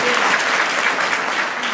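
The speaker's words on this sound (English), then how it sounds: "Y'all give Mr. Lee a round of applause." Short burst of audience applause for Mr. Lee, a dense, steady round of clapping from a room full of people, fairly loud and uninterrupted.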